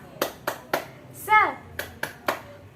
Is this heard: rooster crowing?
no